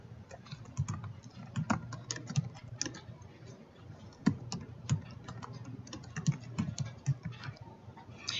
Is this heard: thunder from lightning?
no